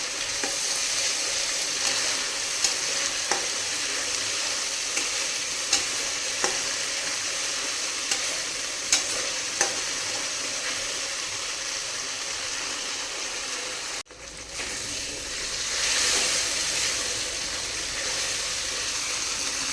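Spice paste of ground cashew and melon seeds being stir-fried in oil for Bengali chitala (clown knifefish) muitha, a steady close sizzle with occasional spoon scrapes and a brief dip in the hiss partway through.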